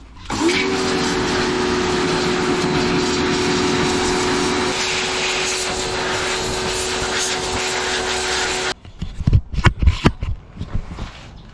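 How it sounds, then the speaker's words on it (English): A pressure washer blasts dirt off a Land Cruiser freewheeling hub, a loud continuous hissing spray for about nine seconds, then cuts off, leaving a few sharp clatters and knocks. "I'm going to grab the pressure washer and blow some of this crap off this thing"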